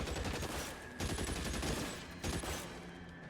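A big gun fires in a video game, loud rapid bursts of gunfire in quick succession, close and dense, with brief pauses between volleys.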